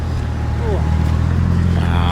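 Low, steady engine drone from a 2005 Cadillac XLR convertible on the move, heard from inside the cabin and continuous across the short stretch, with a few brief vocal sounds over it.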